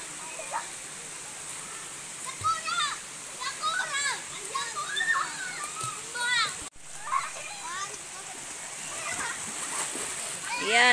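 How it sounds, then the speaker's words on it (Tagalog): Children splashing and playing in a cold, clear, fast-flowing river, with scattered splashes and watery sloshing over a steady rush of current, young voices calling and chattering throughout, and birdlike high chirps. "Yung tatlo nandito nagtatampisaw."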